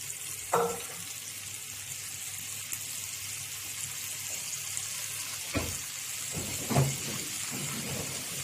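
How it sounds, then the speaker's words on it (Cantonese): Roast pork bones fry in a pan for a mustard green soup, a quiet steady sizzle with a few brief clanks and stirring knocks from utensils, no talking. "首先我哋煎香咗啲燒豬骨先"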